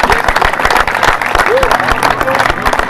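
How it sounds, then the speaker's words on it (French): A crowd at a superdevluy riderZ cup ski event applauds a young skier, steady loud clapping throughout with someone speaking over it. "on peut l'applaudir"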